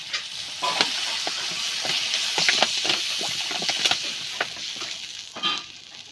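Water is poured into frying potatoes for a pomfret fish and potato curry. A soft, steady sizzle runs under repeated light scrapes and clicks of stirring, with no one speaking.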